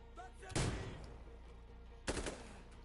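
Gunfire in the video game Insurgency Sandstorm: two sharp, loud shots about a second and a half apart, each with a short ringing tail.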